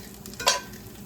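Guanciale frying in a pan with a soft steady sizzle, broken by one brief scraping stir as the pieces are flipped, close and alone without talk.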